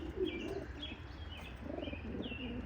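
Racing pigeons coo softly in short, low, rolling phrases against a quiet background, with a few faint higher chirps mixed in and no voices.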